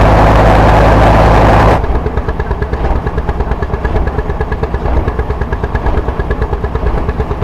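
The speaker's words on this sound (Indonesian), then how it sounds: "Jadi ada mesin kapal ini sendiri, ada mesin kapal utama dan mesin diesel untuk penerangan listrik." A diesel engine aboard a river passenger boat on the Mahakam runs loud and close, starting as a dense roar and then settling into a steady, rapid low throbbing that continues to the end.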